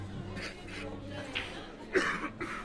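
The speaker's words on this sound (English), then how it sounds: "Excuse my COVID cough." A single short cough sounds near the middle, with faint background voices and low hum around it, at an 8-ball pool tournament.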